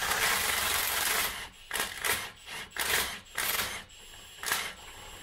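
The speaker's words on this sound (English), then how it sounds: "So let's have a quick go with the impact driver" Impact driver working on a big bolt on a Land Rover Discovery rear hub, firing in about five short rattling bursts separated by brief pauses, close by and fairly loud.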